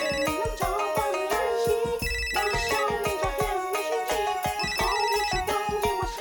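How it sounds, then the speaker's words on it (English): A ringing telephone sounds inside a song, its repeated ring tones mixed over a steady, punchy beat and melody. "I wish that that phone call had been in time with the mute beat"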